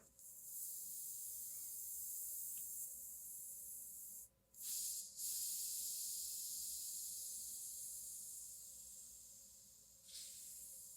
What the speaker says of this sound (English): That little squirt you heard was the negative going into the positive and coming out the top.